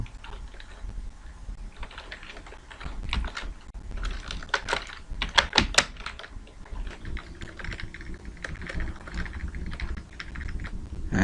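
Fingers type on a computer keyboard, entering a description in short irregular bursts of close, crisp key clicks with a few louder taps partway through, heard alone over a faint room hum.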